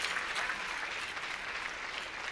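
Faint, steady applause from a keynote session audience honoring the president of the National Black Chamber of Commerce, an even distant patter of many hands with no voices standing out.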